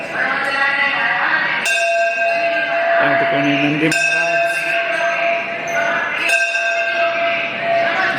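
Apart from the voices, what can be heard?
temple bell ringing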